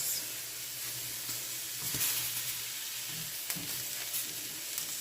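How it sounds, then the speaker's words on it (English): Tomatoes and peppers with the peels on roast in a hot pan, giving a steady loud sizzle and hiss with a few soft pops and stirring knocks, no talking. "We're going to let them roast. We're going to let them roastify and pop and blister."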